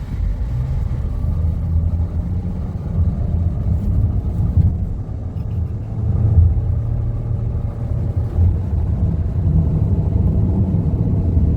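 2022 Nissan X-Trail e-Power e-4orce all-wheel-drive SUV heard from inside as it drives and accelerates, a steady low rumble and road noise with a faint rising motor whine, no talking.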